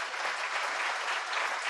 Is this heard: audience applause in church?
yes